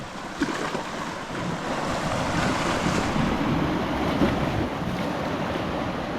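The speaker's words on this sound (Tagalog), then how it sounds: "Malaking alon." Big ocean waves on deep, very clear open sea off an abandoned island, heard from a fishing boat: a steady, full rushing roar of water with wind buffeting the microphone throughout, no voices.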